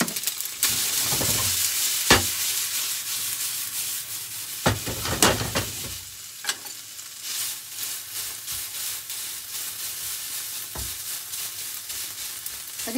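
Konjac spaghetti fry in a pan with salt and Espelette pepper, giving a steady soft sizzle broken by several louder scraping stirs near the start and a few sharp clicks later. No one speaks.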